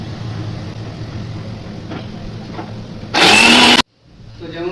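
Kitchen mixer grinder blending ginger, green chilli, melon seeds and cashews gives a short, loud whirring burst of under a second that stops abruptly, following quieter room noise with faint knocks.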